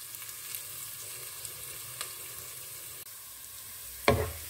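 A faint, steady sizzle of onions frying light brown in hot oil for keema continues throughout, ending with a short louder clatter near the end.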